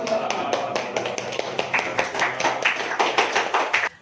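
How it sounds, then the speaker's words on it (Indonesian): Applause from a university law class in a classroom, dense overlapping hand claps running steadily for about four seconds before stopping abruptly, fairly close and loud with no talking. "Kita beri aplaus."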